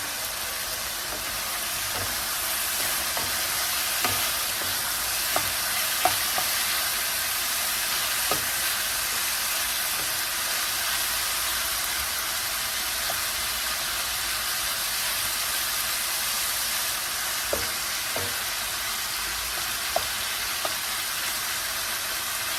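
Chicken frying in a pan, stirred now and then, gives a steady broad sizzle with scattered soft clicks and scrapes of the utensil against the pan, close and continuous throughout.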